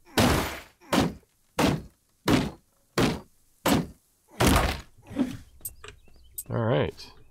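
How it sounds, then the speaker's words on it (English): Wooden boxes are smashed one after another in the survival game Dysmantle. About nine sharp, hollow thunks and cracks land at a steady pace, each loud and close. A brief pickup chime follows at the end. "just going to destroy these boxes"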